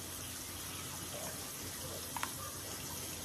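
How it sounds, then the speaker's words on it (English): Hot water runs from a kitchen tap in a home kitchen while spaghetti sauce is being made, a steady, close hiss and splash that stays even throughout with a couple of small clinks. "I'm gonna turn on some water over here."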